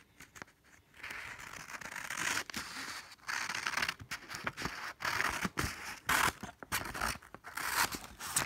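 Scissors snip and crunch through folded paper being trimmed to make a paper ninja star, a close series of irregular cuts and rustles with brief pauses between them.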